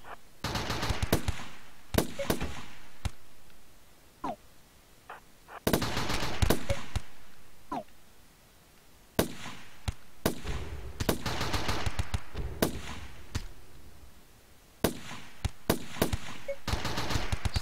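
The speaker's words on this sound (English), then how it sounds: "The guns sound pretty good." Gunfire in the video game Rimworld: repeated bursts of rapid automatic shots, fairly loud and crackling, coming in clusters separated by short quieter gaps over a continuous game background.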